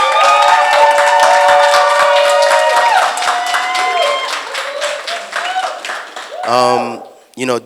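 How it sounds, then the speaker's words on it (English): An audience applauds a performer at a live arts event, a steady wash of clapping with some music tones over it, then fading as a voice speaks near the end. "Can we please give a round of applause for Delasia?"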